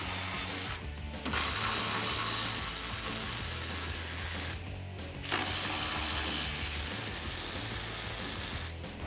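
A ratchet works crossmember bolts loose underneath a 2015-2018 Ford F150 with a 2.7L or 3.5L EcoBoost, giving a steady, loud mechanical rasp broken by three short pauses.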